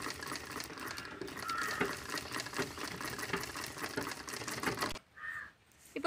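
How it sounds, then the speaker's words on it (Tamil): A sewing machine whirs continuously for about five seconds as it stitches a party-wear wrist hand bag, then cuts out abruptly into near quiet. "நான் இப்போ இந்த மார்க் மேலே வந்து தையல் போடுறேன்"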